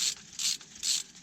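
A jack under a vehicle frame is pumped up with three even ratcheting strokes, each a crisp clicking burst close by, separated by short pauses, with no talk.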